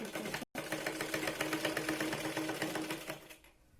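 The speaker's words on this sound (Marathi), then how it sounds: "इथे गळ्याकडे डाऊन करत आपल्याला शिलाई लावायची शोल्डरला" Sewing machine running steadily as it stitches the slanted shoulder seam of a Katori blouse, a fast even needle rhythm with one brief stop near the start before it winds down at the end; no talking.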